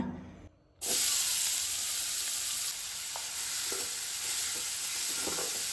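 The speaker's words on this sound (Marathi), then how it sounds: "हो कांदो जो आसा पळय तो आमी आतां हितून बरो तळसून घेवया" Finely chopped onion fries in hot oil, bursting into a loud bright sizzle after a short quiet moment, then holding a steady crackling hiss with faint scrapes.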